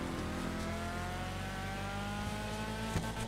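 A car engine in a video game drones steadily throughout, with a rising and falling rev, loud and continuous with no talking over it.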